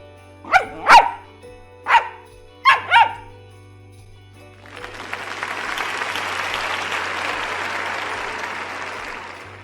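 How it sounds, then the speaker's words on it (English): A dog barks about four times in quick, sharp bursts close up, then the barking stops and sustained applause fills the rest. "What sound does a dog make?"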